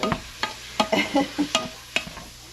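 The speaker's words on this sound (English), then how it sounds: "we're going to let this meat completely brown" Ground meat for spaghetti browns in a pan while a utensil stirs and scrapes it, giving a series of sharp clattering scrapes at an uneven rhythm over a faint background sizzle.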